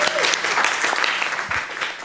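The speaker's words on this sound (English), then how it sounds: "Keep clapping." Audience applause fills a city council comprehensive plan workshop, steady and fairly loud for about two seconds, with a few voices mixed into the clapping.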